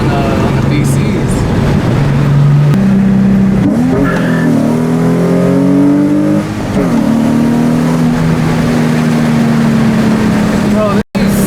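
A Nissan 350Z fitted with a cold air intake revs loudly and close up, its engine tone rising and falling through several throttle sweeps, with a steady rumble running underneath.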